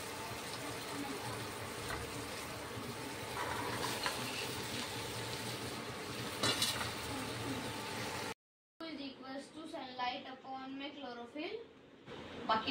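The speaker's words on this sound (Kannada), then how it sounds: "ಟೊಮೆಟೊ ಹಾಕೋತೀನಿ ರೀ ಮತ್ತು ಬೀನ್ಸ್ನೂ ಹಾಕೊಂಡ್ಬಿಡ್ತೀನಿ ಎರಡು ಫ್ರೈ ಮಾಡ್ತೀನಿ" Tomato and beans fry in oil, a broad steady sizzle that runs for several seconds before a short cut, after which a person talks over quieter kitchen noise.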